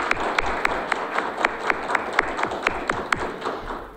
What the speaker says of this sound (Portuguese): A ela, a nossa salva de palmas.